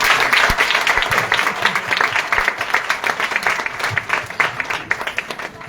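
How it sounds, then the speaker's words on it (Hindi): A seminar crowd claps together, loud and near, a brisk burst of individual claps that gradually thins out toward the end. "एक बार उसके लिए ताली बजा दीजिए।"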